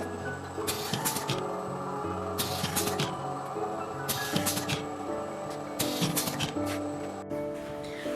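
A six-station servo-motor paper tube core and round box curling and crimping machine runs steadily, with a continuous mechanical hum and regular bursts of hissing, clanking strokes repeating about once per second, no voices.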